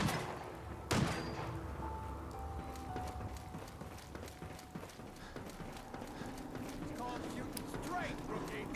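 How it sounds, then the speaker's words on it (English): Gunfire in the video game Fallout 4 VR: a sharp loud shot cracks out early, followed by scattered fainter pops and rattling over a busy background of movement and clatter. "Who's shooting at me?"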